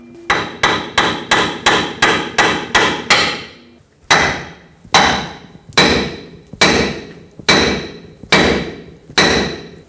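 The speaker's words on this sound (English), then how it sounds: "you could just hammer it, and the vibrations should break this free and help it pop out" Metal rings under hammer blows on a 2003-2009 Toyota 4Runner front suspension bracket: a quick run of about nine strikes, a short pause, then seven slower, heavier hits that each ring out briefly.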